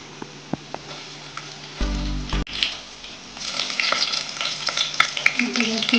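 Garlic fries in hot oil with cumin and mustard seeds for sambar, starting as a quiet crackle, then a spoon knocks the pan and the sizzle swells into loud popping and spattering, close up.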